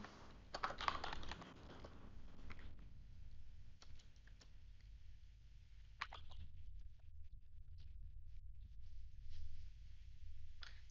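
A website name is typed on a computer keyboard in quick, irregular bursts of close, crisp keystrokes with short pauses between them.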